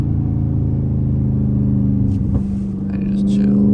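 A Dodge Scat Pack muscle car engine rumbles loudly and close for about two seconds, then drops in pitch as the gear drops and settles back into a deep idle.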